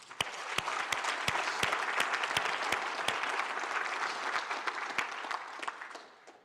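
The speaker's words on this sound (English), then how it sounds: "So please, a big round of applause for that." Applause from an audience at a city's state of the city address, steady and moderately distant, with sharper individual claps standing out through the continuous patter for several seconds.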